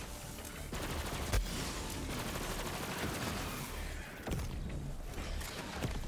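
Shotgun fire in the video game Borderlands 3 booms as a few heavy blasts over a constant dense wash of game noise, with gunfire and impacts blending into a loud, continuous background.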